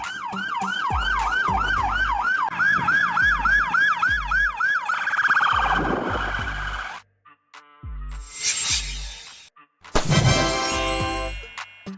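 A fire first responder vehicle's loud wailing siren sweeps rapidly up and down, then shifts to a long rising tone, followed by short bursts of horn and yelp nearby.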